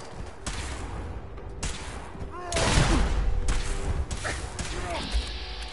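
Rifle gunfire in the video game Fallout 4 during a fight with a missile-launcher enemy: sharp bursts of shots cluster in the middle, over steady game noise with someone talking.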